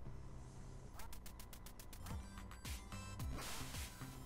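Electronic duck quacks from the NES game Duck Hunt sound in quick bursts over a steady wash of 8-bit game noise, with a few descending blips mixed in.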